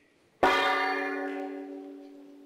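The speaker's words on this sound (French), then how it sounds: "Ouais, ça arrive, il y a un gong aussi." A gong is struck once during a union meeting, giving a clear metallic ring that decays slowly over about two seconds in an otherwise quiet room.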